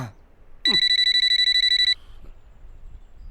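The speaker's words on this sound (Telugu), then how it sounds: "అసలు ఈ ఫోన్ కనిపెట్టి నరికేయాలరా." A telephone rings in a rapid, loud trilling burst lasting about a second, then stops, with a quiet room behind it.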